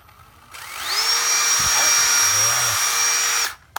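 Used Japanese cordless drill spinning up to a high steady whine, running smoothly for about three seconds before cutting off, with a brief clatter partway through.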